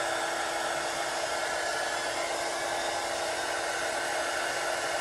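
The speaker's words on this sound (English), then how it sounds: "a heat gun." A heat gun cures a DTF transfer on a dark shirt, blowing a constant, loud hair-dryer-like rush of air that holds steady from start to finish.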